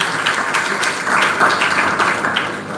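A crowd at a motivational career talk gives a round of applause, a dense, fairly loud burst of clapping that holds for a few seconds and then eases off.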